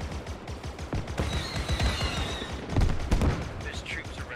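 The main gun of an AT-TE walker in Squad's Star Wars mod fires in rapid repeated bursts, joined by booms and mechanical clatter, while players talk over the noise.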